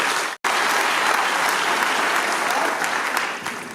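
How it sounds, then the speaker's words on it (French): Congregation at a first Mass for a newly ordained priest breaks into sustained applause in church, a dense, steady wash of clapping lasting several seconds after a brief cut near the start. "Frères et sœurs, nous allons applaudir pour le Seigneur."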